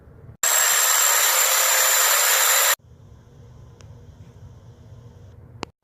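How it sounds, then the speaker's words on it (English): A Sawzall reciprocating saw cuts through a rusted toilet flange bolt and nut: a loud, steady buzzing burst lasting about two seconds, then stopping abruptly, leaving quiet low room noise with a couple of faint clicks. "you'll have to cut out the bolt and the nut using your Sawzall"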